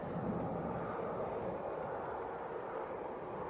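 An airplane taxiing at Leeds Bradford Airport gives off a steady, distant engine roar and hiss, faint and unbroken throughout, with no voices over it.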